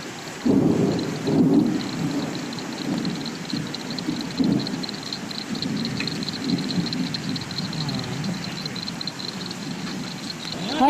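Steady rain with rolling thunder, a dense continuous wash of rainfall and low rumbling swells heard from a porch, with no talking.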